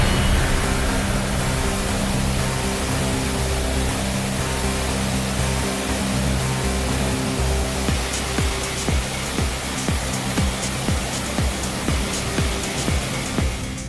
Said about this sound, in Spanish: Los propietarios de la central tuvieron que aumentar el caudal del agua a través de compuertas especiales